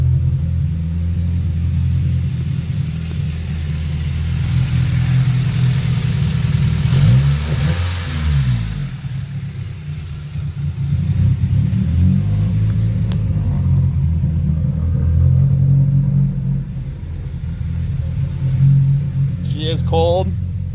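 A 1993 Honda Civic EG with a turbocharged D15B VTEC engine idles steadily with a low, rumbling drone, joined by a brief revving swell midway and a short burst of noise near the end.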